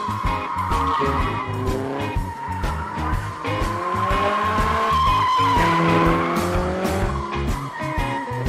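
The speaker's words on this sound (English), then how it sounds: "That, my friend, is a drift because he's welded the rear differential." A car with a welded rear differential drifts at a motorsport event, tires squealing and skidding continuously under a loud, revving engine for several seconds.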